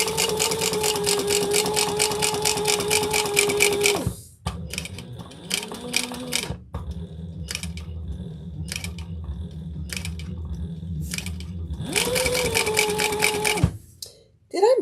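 A sewing machine stitches a fabric beach tote in long, steady whirring bursts. A sustained run at the start gives way to short stop-start stitches, then another long run, with quiet pauses in between.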